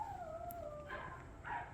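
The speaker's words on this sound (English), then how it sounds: "Can you hear my dogs?" Pet dogs howling and whimpering from a distance inside a house as their owner leaves, a thin wavering cry followed by a couple of brief yips, faint against a low background hum.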